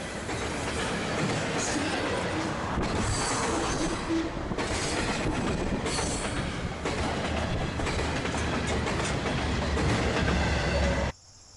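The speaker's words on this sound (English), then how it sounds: "has bigger diesels this time, an ET44AC and an SD70 ACU." A Norfolk Southern freight train on the Lehigh Line, led by ET44AC and SD70ACU diesel locomotives, passes close by with a loud, continuous rumble and wheel clatter for about eleven seconds before the sound cuts off abruptly.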